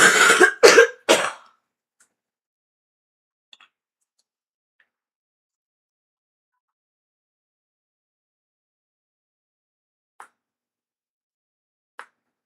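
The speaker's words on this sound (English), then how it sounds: "I'm not going to make it through this card without blowing my nose." Several sharp, wet bursts of nose blowing close up, three quick blasts in a row, followed by long silence with a couple of faint clicks.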